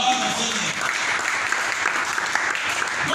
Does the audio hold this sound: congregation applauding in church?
yes